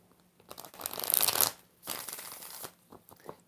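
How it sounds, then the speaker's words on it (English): A deck of tarot cards is shuffled in two quick riffling bursts, crisp and close, followed by a few lighter taps and card flicks with no voice. "Two more shuffles"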